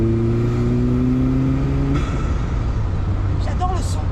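An Opel Speedster Turbo engine revs with a strong exhaust note, holding a steady droning pitch before dropping off, loud and close, with a brief voice near the end.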